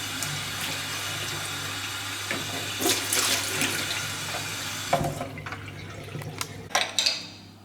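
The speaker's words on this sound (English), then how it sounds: "we need to rinse and clean coffee ground container." Running tap water splashes steadily as the coffee ground container from a DeLonghi Autentica ETAM-series coffee machine is rinsed in a sink, with a few knocks and a change in the flow near the end.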